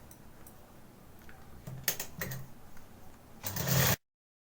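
A sewing machine stitches a blouse seam along the waist in short mechanical bursts, whirring louder toward the end before cutting off abruptly into silence.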